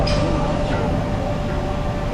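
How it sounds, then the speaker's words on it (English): The Nilgiri Mountain steam toy train at Ooty starts moving with a loud, dense rumble and rattle of wheels and carriages, a faint steady whine running beneath it. "our steam engine toy train is moving."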